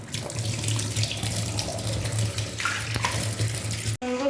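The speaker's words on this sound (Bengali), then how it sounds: "ছাড়িয়ে নিয়েছি, এবার এটাকে ভালো করে ধুতে হবে।" Tap water runs steadily into a sink while fish is washed by hand, a loud, close, continuous gush with a low hum beneath, cut off abruptly near the end before brief clattering.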